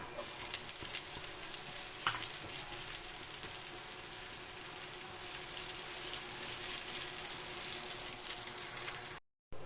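Garlic and onion sauté in a pan for a bamboo-shoot coconut stew, a steady close sizzle with faint stirring crackles that runs evenly before cutting out briefly near the end.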